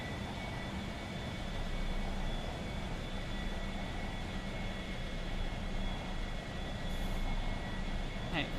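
An airplane on approach to an airfield with flaps and wheels coming down, its engine and airflow a steady loud drone with a faint high whine throughout, no pauses.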